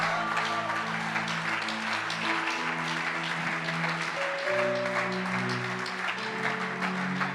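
A church congregation applauds and cheers in acclaim of Jesus, a steady wash of clapping sustained throughout while organ or keyboard chords hold underneath.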